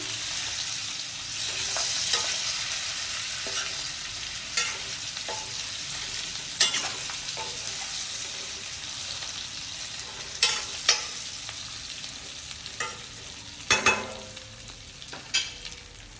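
Stuffed brinjal stirred and fried in a pan: a continuous low sizzle with intermittent scraping knocks of a spoon against the pan, slow and irregular, close by with no talk.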